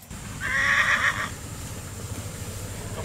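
A horse whinnies once, loud and close, for under a second near the start, then only a low rumble of background noise remains, at a workshop where a lifted PT Cruiser is being built.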